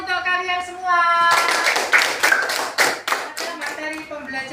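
A primary school class claps for its classmates' work: after a voice speaks, a burst of close, loud hand clapping breaks out, then tapers off with more speech.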